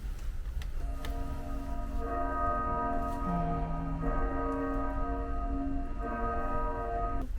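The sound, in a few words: bell from the World Bells display at the Sapporo Clock Tower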